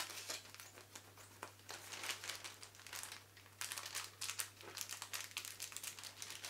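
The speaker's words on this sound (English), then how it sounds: "And we're going to cut our substrate bag and our grain bag." Scissors cutting through plastic mushroom substrate and grain bags, giving close, faint crinkling and snipping with irregular bursts of rustle throughout, no talk.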